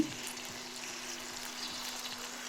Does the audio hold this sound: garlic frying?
yes